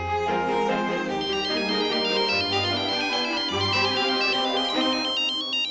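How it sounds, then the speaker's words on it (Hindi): A mobile phone plays a melodic ringtone for an incoming call, its bright tune repeating loudly and steadily with no talking over it. "ले डॉली, दीदी जिन्हें इतनी शिद्दत से याद कर रही थी, उन्हीं का फोन आ गया।"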